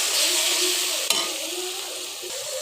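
Onion, garlic and green chilli fry in mustard oil for a fish and bottle gourd curry, giving a loud, steady sizzle with one sharp stirring knock partway through and no talking.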